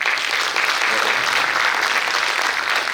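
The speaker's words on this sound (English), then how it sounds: "a big round of applause for the team which made it all happen" Dense, loud applause from a conference audience at a steel industry session in Bhilai, honouring the organizing team. The clapping is sustained and even throughout with no pauses.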